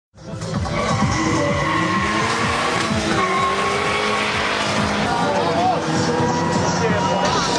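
Opel Kadett race car at a street race, engine roaring loudly at high revs with shifting pitch as it accelerates, joined by tire squeal and skidding, continuous and close throughout.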